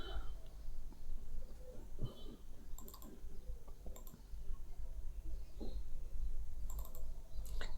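Computer mouse clicks during an online account sign-up, a few sharp short taps spread across the clip over a quiet room background.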